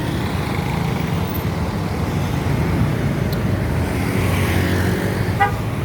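Congested road traffic in Sukabumi on the Cicantayan–Segog–Karangtengah route: a steady, loud rumble of car and truck engines fills the scene, with a short car-horn toot near the end and no talking.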